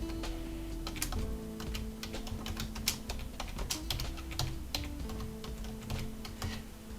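Keystrokes on a computer keyboard, close and fairly steady, with irregular clicks tapping out text alongside a low background hum.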